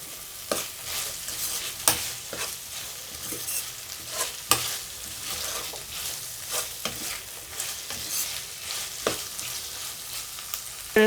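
Prawns and gongura leaves fry in a pan, a steady sizzle broken by repeated sharp scrapes and clacks of a spoon stirring at an uneven rhythm, close and fairly loud.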